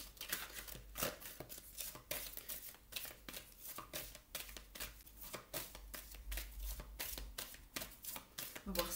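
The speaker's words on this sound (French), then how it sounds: "je remélange le jeu" A deck of tarot cards is riffled and reshuffled in quick repeated flutters, a steady run of crisp papery bursts close up for several seconds, with faint speech in the background.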